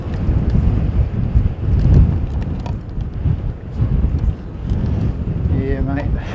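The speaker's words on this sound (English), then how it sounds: "It's not cold, it's just windy and really hard to hold on to the gear." Strong gusting wind buffets the microphone outdoors at an airport, a loud rumbling roar that surges and fades throughout, with a faint voice briefly audible near the end.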